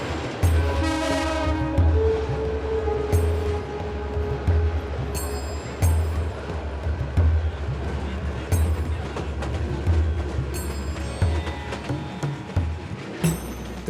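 Old British colonial-era passenger train running in Bangladesh, with steady low rumbling and repeated rhythmic clickety-clack of wheels over rail joints, and a loud horn blast near the start over the continuous roar.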